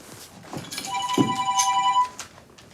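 A mobile phone ringtone rings alone for about a second and a half, a bright, steady electronic tone with a short chirp, close and clear against a quiet room.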